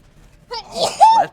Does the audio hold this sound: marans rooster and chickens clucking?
no